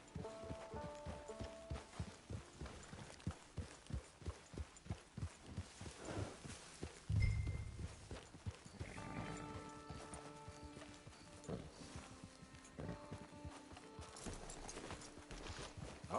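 Horse hooves clip-clop in a steady walking rhythm in the Red Dead Redemption 2 western game, close and distinct, with a brief thump midway and ambient game music rising afterward.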